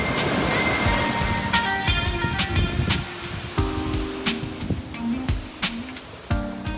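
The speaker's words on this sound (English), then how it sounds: "the waves are pretty big, and these waves crash quite violently." Loud surf roars continuously as big waves crash violently on a steep beach at Barra de Navidad, Mexico, breaking and washing close by, with a low engine-like hum running underneath.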